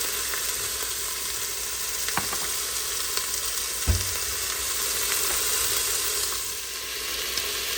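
Pork chops sprinkled with cinnamon fry in a pan with a steady, close sizzle, joined by a few light clicks and a soft thump from the pan.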